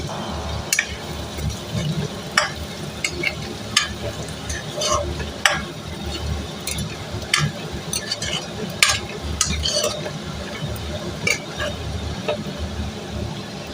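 Prawn fry being stirred with salt in a pan, a steady sizzle with repeated scraping and clinking strokes of a spoon against the metal throughout, with no talk.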